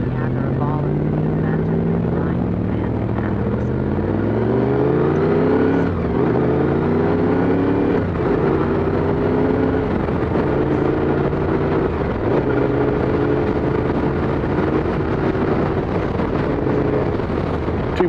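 A Triumph motorcycle engine with a VFR-like whine runs steadily on the road, its pitch climbing and dropping through repeated gear changes under constant wind buffeting for the whole stretch.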